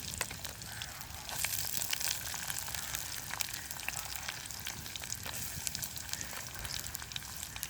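Curry leaves, green chili and onion sauté in a hot pan, giving a steady close crackling sizzle with scattered pops and spits throughout, no voices over it.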